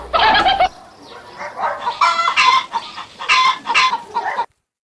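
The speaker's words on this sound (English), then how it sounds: "H for hen." A hen clucks in several short, loud bursts close by, with a brief rising squawk at the start and no talking.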